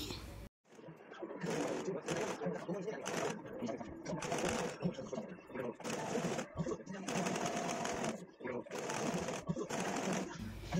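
Sewing machine stitching down the folded lower edge of ironed canvas for a standing collar, a steady rapid whirring run with brief pauses, close and loud, while someone talks over it.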